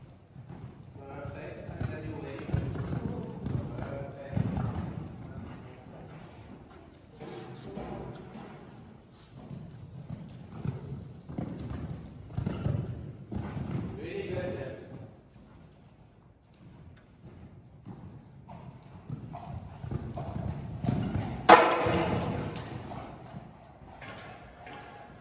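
Horse hooves clip-clop in uneven bursts as a 7-year-old chestnut gelding jumps a course, with a louder thump near the end; no talk.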